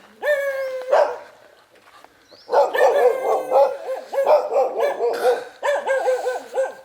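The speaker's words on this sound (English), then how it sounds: "Dogs are chasing me." Dogs barking and yelping while chasing someone on Koh Phangan in Thailand, a loud, close, rapid run of overlapping barks and whines after an opening yelp and a brief lull.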